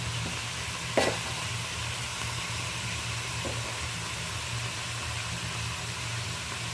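Potatoes, eggplant and drumsticks sautéing in a pan give a steady, fairly quiet sizzle throughout, with one sharp utensil scrape or clink near the start and a softer one midway.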